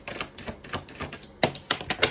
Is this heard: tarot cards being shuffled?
yes